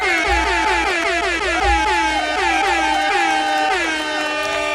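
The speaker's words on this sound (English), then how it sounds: "An air horn." An air horn sound effect blasting repeatedly in quick succession, loud and brassy with a falling pitch on each blast, continuous over several seconds with no talk over it.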